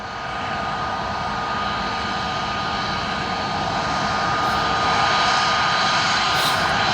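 An Airbus A320 jet at an airport roars steadily with loud, sustained engine noise that swells slightly louder toward the end, heard on its own without talk.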